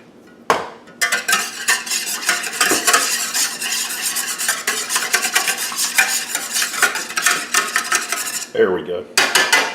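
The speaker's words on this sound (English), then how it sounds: "you take you a couple of eggs and beat it, just beat it" A couple of eggs with Greek seasoning are beaten briskly in a bowl, giving a near, continuous rapid clatter of utensil against dish for about nine seconds, with no talking.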